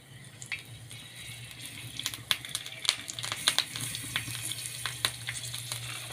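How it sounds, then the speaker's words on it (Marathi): Green chillies sizzle in a spoonful of oil on a flat iron griddle, a steady close frying hiss broken by sharp crackles and spits that grow busier as the peppers settle in. "आता याच तव्यावरती मी 1 चमचा तेल घालून घेतलेला आहे ठेचा करण्यासाठी. त्याच्यावरती हिरवी मिरची घालत आहे."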